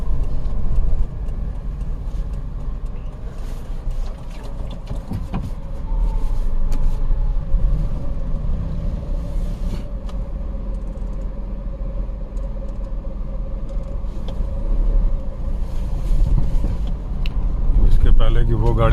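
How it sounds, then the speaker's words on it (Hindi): A Maruti 800 car squeezing past on a narrow jungle road in a tiger reserve, heard as a continuous low engine rumble and road noise from inside a vehicle, swelling and fading, with people talking throughout. "मारुति 800 है इसलिए निकल जाएगी, दूसरी होती तो नहीं निकलती"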